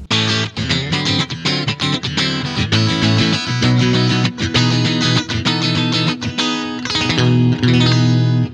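Heavily distorted Ibanez RG320EXZ electric guitar playing loud, dense chords and riffs with a thick, saturated tone and brief pauses between phrases.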